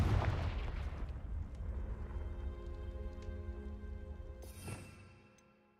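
Confringo fire spell from the video game Hogwarts Legacy bursts with a booming explosion up front, followed by a decaying crackling rumble and a sharp late impact before fading out.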